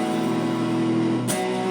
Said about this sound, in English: It's just power chords